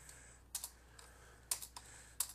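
Quiet typing on a computer keyboard while writing code, a few short bursts of crisp key clicks separated by pauses.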